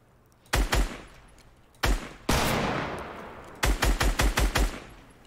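Bursts of automatic gunfire from a weapon in the Fortnite video game: a short burst, two isolated shots, a longer rattling burst that fades, then a rapid string of six or seven loud cracks.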